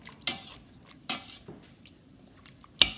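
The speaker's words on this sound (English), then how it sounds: "I am going to mash the vegetables" Boiled vegetables being mashed in a pot for pav bhaji, heard as a few sparse metallic clinks and taps of the masher against the vessel, fairly quiet and close, with no speech.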